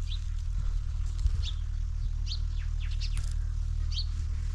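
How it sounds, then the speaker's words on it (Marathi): Sparrows chirping in trees beside a farm field, quick high tweets scattered throughout at moderate distance over a constant low rumble of wind. "झाडांवर चिमण्या चिव चिव चिव चालू आहे"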